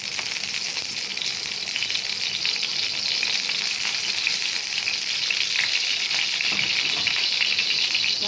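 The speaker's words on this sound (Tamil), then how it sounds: "இப்போ வந்து தோசை கழிச்சு எண்ணெய் ஊற்றி அதை போட்டு பொரிச்சு எடுத்துக்கலாம்" Marinated fish frying in hot oil on a dosa pan for a fish roast, giving a steady, loud, continuous sizzle and crackle throughout with no talking.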